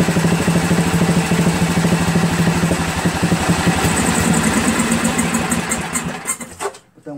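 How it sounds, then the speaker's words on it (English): A Dayton generator's 11 HP Briggs engine runs with the throttle held open, a loud, rapid, pulsing chug with a tinny rattle that holds steady and then sputters and dies at the end. "If I hold the throttle open,"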